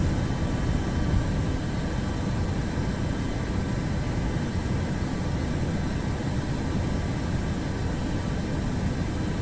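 Boeing 737 MAX 8 taking off in the MSFS 2024 flight simulator, a steady, loud broadband engine roar holding constant throughout with no voices.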